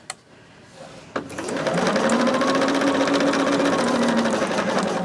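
A sewing machine binds a quilt, starting with a couple of clicks before the motor spins up into a loud, steady, rapid stitching whir that holds for several seconds.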